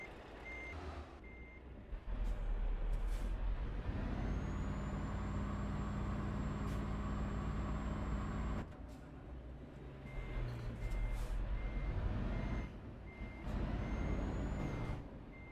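A truck in a driving game hisses its air brakes and then beeps steadily while reversing, the repeated warning tones running over a low engine drone with a second burst of beeps later.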